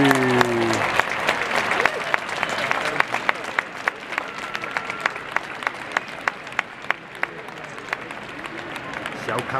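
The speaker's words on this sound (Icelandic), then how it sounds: "Það er alltaf allir byrjar að klappa." Crowd in Rome applauding while awaiting the Pope at Christmas, dense sustained clapping with sharper individual claps standing out, steady throughout; brief voices heard near the start.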